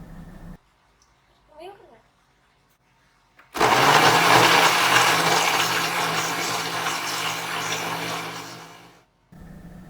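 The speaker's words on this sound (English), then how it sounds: "After add every ingredients into the blender jar, blend about 1 minute until mix everything." After a few quiet clicks and a brief rustle, a blender blending a banana milkshake whirs loudly for several seconds, then cuts off abruptly.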